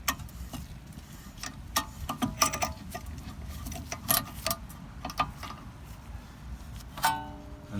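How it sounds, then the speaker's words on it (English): Rear brake caliper pistons on a Mercedes-Benz A-Class W176 with an electronic caliper are pressed back in, producing close mechanical clicks, ticks and small creaks over a low background hum, ending in a sharper squeak. "As you can see, the pistons compressing in."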